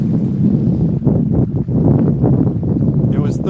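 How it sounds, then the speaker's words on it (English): Strong wind of about 15 knots blows across a cold winter beach at Fort Clinch during surf fishing, around 38 to 40 degrees. A loud, steady rumbling roar buffets the microphone with continuous gusts throughout. "Yeah, it is windy. Windy and cold."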